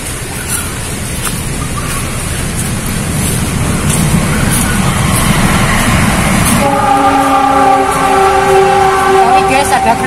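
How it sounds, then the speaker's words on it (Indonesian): A passing train rumbles steadily through an outdoor bamboo grove, with a horn-like tonal blare rising in the second half over the ongoing rail noise; people talk nearby. "Ini guys ada kereta."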